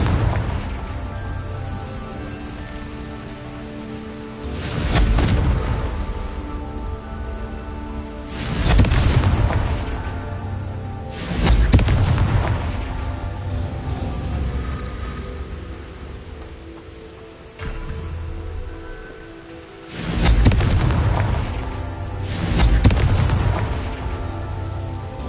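Confringo blasting spells in Hogwarts Legacy go off one after another, five heavy booming explosions spaced a few seconds apart, each with a rumbling tail over a steady ambient bed.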